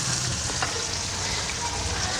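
Whole spices (star anise, cloves, cinnamon, black cardamom, bay leaves) frying in oil for potato pulao, a steady soft sizzle with faint stirring clinks, close and fairly quiet.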